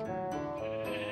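A brown sheep bleats in Minecraft Bedrock Edition: a close, wavering bleat broken into a few pulses, with no voices over it.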